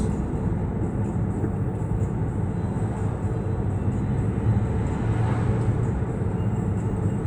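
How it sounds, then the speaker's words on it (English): A city light rail train rolls past on street track between Newark and Belleville, a steady loud rumble and rush of wheels and motor that holds for several seconds with no pause. "See, that's the light rail."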